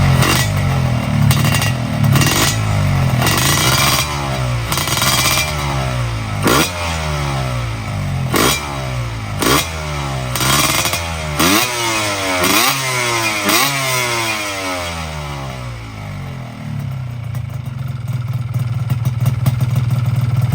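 A 1994 Yamaha RXZ two-stroke motorcycle engine runs loud and close, revving repeatedly in rising and falling bursts over a raspy idle, then settling back to a steady idle near the end.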